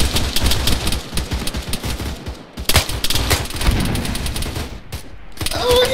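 Rapid bursts of gunfire with heavy booms and a grenade blast in the ARMA 3 military shooter, loud and dense throughout with brief gaps between volleys.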